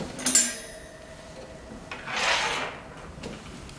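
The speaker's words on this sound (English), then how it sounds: "Use the screwdriver to unscrew the 6 screws of the circuit board." A screwdriver backs out the circuit board screws of an ST3042 vacuum sublimation heat press, giving a close scraping, rasping twist with metallic rubbing and a few small knocks, heard alone.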